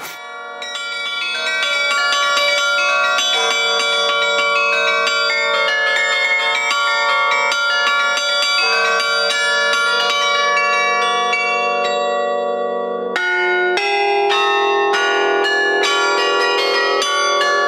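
Carillon bells of Saint-Aubain Cathedral ring out a continuous melody, loud and resonant, with many overlapping tones and a brief pause before the tune resumes.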